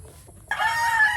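A hen of the Raptor Sweater gamefowl breed lets out a loud, sustained squawking cluck close by on a game farm, starting abruptly after a quiet moment.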